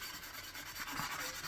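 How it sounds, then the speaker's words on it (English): A rusty bayonet blade is hand sanded, a soft, steady rubbing and rasping close to the microphone with no talk. "So I'm hand sanding your blade"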